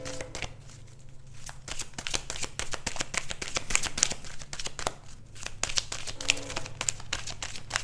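Tarot cards being shuffled by hand, a steady run of crisp riffling and flicking bursts that fills the whole stretch, close and fairly loud, with no talking.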